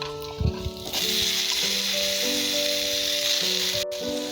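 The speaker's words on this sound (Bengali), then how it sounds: "এবার ভালো করে নাড়াচাড়া করে নিতে হবে বেশ কিছুক্ষণের জন্য, যাতে একটু ভাজা ভাজা হয়ে যায়।" Flat beans, green chilli and coriander fry in hot oil with garlic, a steady loud sizzle that jumps up after a clattering toss into the pan while a spatula stirs beneath.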